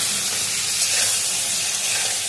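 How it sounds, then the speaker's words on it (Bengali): Cauliflower florets fry in hot oil in a pan, a loud, steady, close sizzle that holds evenly without pause. "কপিটা যত ভালো করে ভাজবেন রান্নায় তত টেস্ট আসবে তা চলুন আমি ভালো করে ফুলকপিটা ভেজে নিই"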